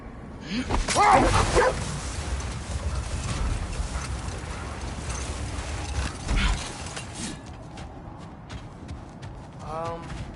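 Fenrir, a giant wolf in God of War Ragnarok, lets out a few deep, gruff barks, most clearly near the start and again at the end. Someone talks over the barks, and faint footsteps can be heard beneath.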